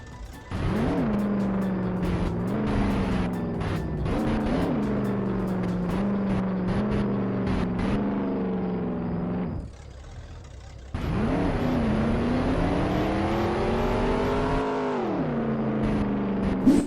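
Custom engine sound of the JBX-0031 car in Roblox Jailbreak: a synthetic whirring motor that rises and falls in pitch through repeated accelerations, cuts out briefly, then revs up again, with no talk.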